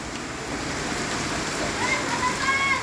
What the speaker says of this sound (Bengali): বৃষ্টি হচ্ছে, অনেক বৃষ্টি।